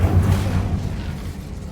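A heavy, rumbling whoosh of an Incendio fire spell cast in Hogwarts Legacy, a loud low-pitched burst of flame that lingers and slowly fades over a couple of seconds.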